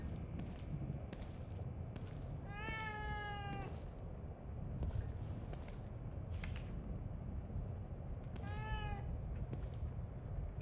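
A cat meows twice in The Evil Within 2, each call rising and wavering, spaced several seconds apart over a quiet, faintly rumbling game ambience with soft thuds.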